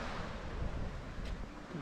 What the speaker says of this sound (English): here you can see perhaps the waves, only gentle waves